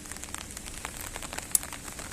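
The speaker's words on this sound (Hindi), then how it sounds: "अभी भी बारिश हो रही है," Light rain falling on a temple, a soft steady patter of drops with scattered faint taps, quiet and close.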